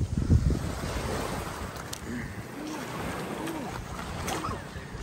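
Steady wash of sea waves on a pebble beach at Lobo, Batangas, with continuous surf and wind noise over the microphone and a few faint higher tones.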